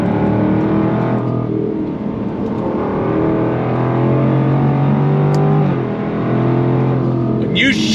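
A 2023 Jaguar F-Type R's engine revs hard under acceleration, a loud sustained roar that climbs in pitch through gears with a brief dip at a shift, close up from inside the car with a voice talking over it.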